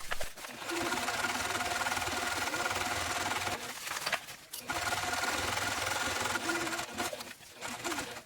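A sewing machine runs steadily while stitching a fabric changing pad for a diaper pouch, back stitching around the corners; the motor hums continuously with two brief pauses, close and fairly loud, and no talking.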